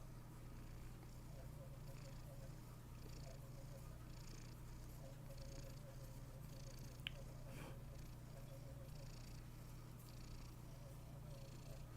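A pet cat purrs steadily and close up, a low continuous rumbling throb lasting the whole stretch, with a faint brief meow-like sound partway through.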